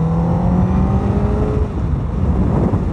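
A Honda Fireblade CBR1000RR sport motorcycle engine revs under a blipped throttle, giving a loud, steady, close-up mechanical drone with a strong tonal hum that holds throughout, with no talking.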